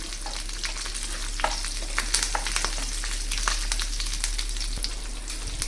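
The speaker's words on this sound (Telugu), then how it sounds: "కరివేపాకు, అలాగే పచ్చిమిరపకాయలు వీటిని బాగా వేయించుకొని" Curry leaves, green chillies and dried red chillies fry in hot oil for a cluster beans curry, making a dense, steady sizzle with crackling pops and occasional stirring close up over a low background hum, with no speech.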